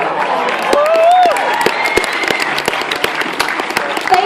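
Audience applause at a Saturday cosplay competition, dense clapping from a crowd inside a convention hall, with a few whoops and a voice rising above the clapping now and then.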